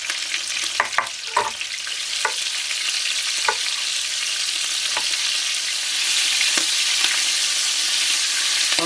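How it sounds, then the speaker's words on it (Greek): Sausages fry in a pan with a steady dense sizzle and crackle, punctuated by scattered sharp pops and occasional stirring clicks, close up and without any voices. "Ξεκίνησε το τηγάνισμα."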